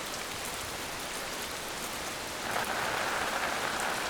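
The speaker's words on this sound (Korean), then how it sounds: "규조류의 바다에 비가 내립니다." Steady rain falls on a tidal mudflat of diatom-rich coastal sea, a dense even hiss that grows slightly heavier partway through, with no voices.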